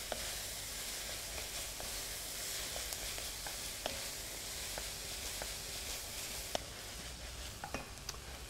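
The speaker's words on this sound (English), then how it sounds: "we're going to pop that straight into the pan and just sweat that off again" Garlic sweating in a pan for braised beef stew, giving a steady, quiet sizzle and hiss with occasional small pops and stirring clicks, and no talking.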